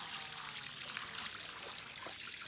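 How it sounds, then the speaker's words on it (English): Water splashing and trickling through the coils of a 1960s GE high thin line air conditioner during rinsing, a steady, hissing stream of liquid heard alone at close range. "you got to use a lot of water to rinse out your coils"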